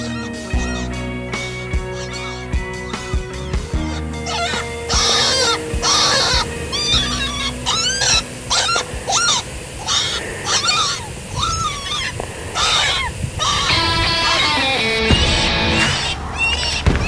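An electronic predator caller plays a looping distressed call mimicking an injured rabbit, with repeated high, wavering squeals in a series of bursts, fairly loud and close.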